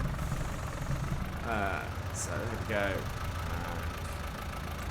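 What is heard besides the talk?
tractor engine idling in survival farming video game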